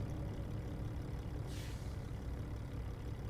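A Volvo VNL semi truck rumbles past in American Truck Simulator, a steady low engine drone with a brief hissing burst midway, heard without any talking.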